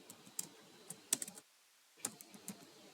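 Quiet, irregular clicks of a computer keyboard as Java code is typed, a few keystrokes in quick clusters with a short pause in the middle, close and soft, with no talking.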